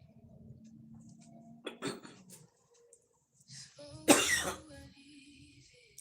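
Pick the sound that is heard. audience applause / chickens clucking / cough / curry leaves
cough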